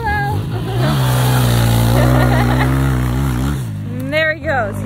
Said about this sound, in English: Just ripping his dirt bike.